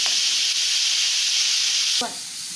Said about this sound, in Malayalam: ഉള്ളി അവിടെ അങ്ങനെ മൂക്കുന്നുണ്ട്